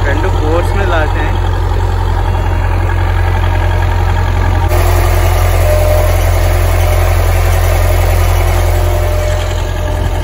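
A tourist boat engine drones loud and steady throughout, a constant low rumble with wind noise over it.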